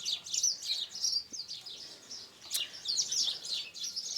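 Birds chirp outdoors in quick, bright, repeated tweets, some near and some farther off, with no talking.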